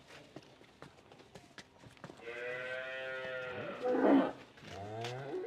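A dairy cow lets out a long, loud moo, followed by a second shorter one, after scattered clopping and shuffling sounds nearby at a cattle market.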